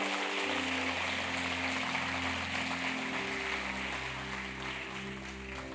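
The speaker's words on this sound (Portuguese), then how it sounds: "Aplauda ao Senhor" A congregation at a lively Portuguese-language church service applauds in a dense, steady wash of clapping, with sustained keyboard chords underneath, fading slightly toward the end.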